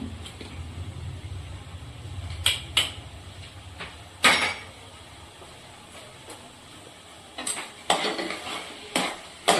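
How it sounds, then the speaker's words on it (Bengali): Semolina and powdered sugar being mixed in a pot, a soft scraping under low background hum broken by several sharp metallic clanks and taps of a utensil against the pot rim. "এই যে সুজিটা মিশিয়ে নিচ্ছি, এর মধ্যে দেব আমি কিছুটা চিনি"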